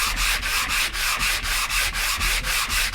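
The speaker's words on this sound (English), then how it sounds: "I'm going to run a block along that edge" Sanding block rubbed back and forth along the edge of an RV cabinet, a steady rhythmic scraping with about a dozen even strokes, close and loud with no talk.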